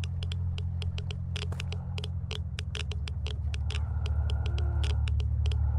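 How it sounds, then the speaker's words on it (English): A radiation counter ticking in the game Shadows Peak, a rapid, irregular clicking, crisp and close, running over a steady low electrical hum. "Why am I getting a radiation ticker?"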